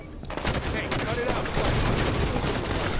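Light rifle fire in Halo 5 Guardians sounds as dense, continuous gunfire that stays loud and steady throughout, with a voice talking briefly over the shooting.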